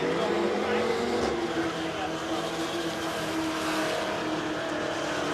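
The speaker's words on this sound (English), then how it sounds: "Nice big skid from Ross Costello" Drag racing car doing a big burnout at a no-prep drag event, a continuous loud roar of engine and tire skid with a steady, dense wash of noise throughout.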